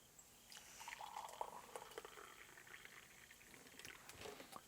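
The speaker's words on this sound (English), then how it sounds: "You're going to hand me that kettle there, and I'm going to pour this in here." Hot water pours from a kettle into a freeze-dried Norwegian Arctic field ration pouch of creamy salmon with pasta, a quiet continuous trickle and gurgle lasting several seconds, faint and close.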